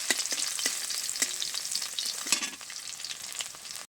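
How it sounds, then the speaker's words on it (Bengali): Garlic and black cumin seeds fry in hot oil while being stirred, a close, lively sizzle punctuated by short scraping stirs, ending abruptly with no voices. "রসুনটাকে একটু নেড়ে চেড়ে লালচে করে ভেজে নিয়েছি"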